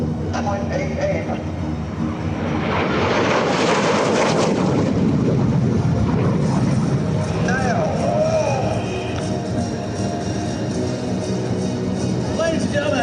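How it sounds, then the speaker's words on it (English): A MiG-17 jet making a high-speed pass at an air show, a loud broadband roar that swells and sweeps past around the fourth second, then trails off under steady crowd and announcer noise. "what did you think about the high-speed pass, Mr. Randy Ball?"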